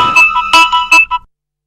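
A phone ringtone plays a short bright melodic phrase of several tones, loud and close, then stops abruptly.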